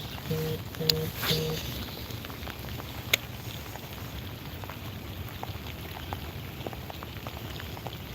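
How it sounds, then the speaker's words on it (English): Cold rain falls steadily while fishing outdoors, a constant soft patter of drops on surfaces with a few scattered louder taps and brief faint tones near the start. "today is like not just a rain, but it is a cold rain."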